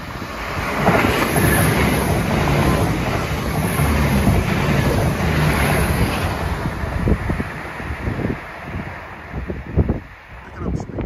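An Irish Rail Class 22000 diesel multiple unit passes near Dublin, a broad rushing roar that builds and fades over several seconds, buffeted by wind noise and with a voice heard over it.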